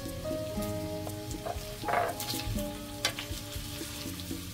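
Carrots and beans sizzle steadily in a pan for a vegetable lumpia filling. The frying hiss stays close and even, broken by a few light clinks as the pan is stirred.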